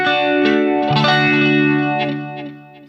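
Electric guitar run through a Line 6 HX Stomp with a Big Muff fuzz, giving a thick, sustained distorted tone with swirling modulation. Several notes ring out and blend together, with a few fresh attacks and a long fading tail, and no talking.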